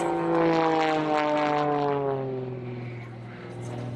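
A propeller-driven aerobatic airplane flying maneuvers over a runway, its engine a steady loud droning hum with a slowly shifting pitch, close and continuous throughout.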